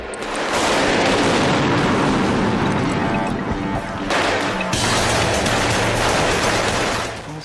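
Chaotic bursts of gunfire, grenades and booming blasts during the Entebbe hostage rescue raid crowd together in a loud, continuous barrage, with a sharp shift partway through.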